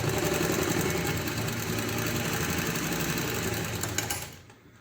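A sewing machine re-stitches a missed seam on a blouse neck, humming steadily and closely for several seconds before the motor winds down and fades at the end.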